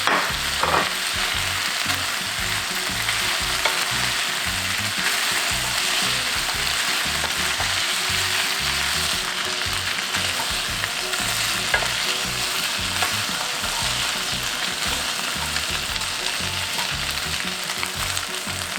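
Chicken breast and potatoes stir-fried in a pan, giving a steady, loud sizzle with a rhythmic scrape and toss of a utensil repeating throughout and no talking.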